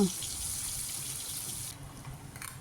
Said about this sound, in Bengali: চিকেনটাকে ভালো করে ধুয়ে নিয়ে